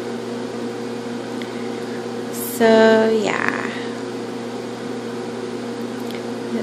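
A microwave oven runs with a steady mechanical hum while boiling a rock for a hamster cage, joined by a brief rising whine and clatter near the middle as a voice speaks over it.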